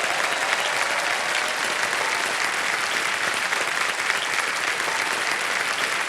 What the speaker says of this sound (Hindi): जोरदार तालियां बज जाए